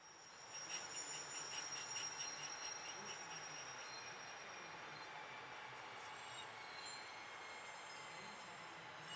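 A GE66 locomotive, number 702, built in 1958, hauling a freight train past, giving a faint steady rumble with squealing wheels and rhythmic clicking from the cars.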